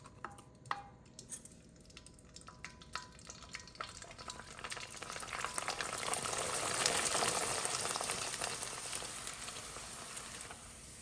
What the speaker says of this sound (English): So I'm going to first fry the sabudana ones.